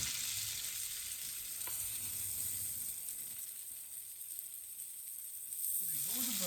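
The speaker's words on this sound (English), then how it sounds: "You want to fry your turkey cutlets until they golden brown." Turkey cutlets fry in a pan, giving a steady, soft sizzle that holds through the whole stretch, with a brief low murmur of voice near the end.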